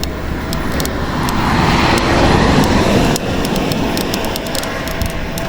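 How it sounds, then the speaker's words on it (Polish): A car passes close by on a narrow road in Turkey, its broadband whoosh rising to a peak and then fading, heard from an e-bike with steady wind and road noise. "Co jakiś czas przejeżdża samochód."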